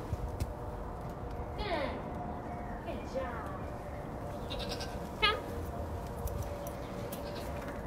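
Goats at a zoo bleating several times at moderate distance, with short wavering calls scattered over a soft background, one louder bleat near the end, and people talking quietly.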